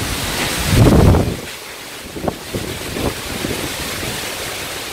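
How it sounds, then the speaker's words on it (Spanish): A strong gust of wind blows outdoors, roaring loudly against the microphone for about a second before settling into a softer rushing background with a few faint knocks. "Se nos viene otra ráfaga."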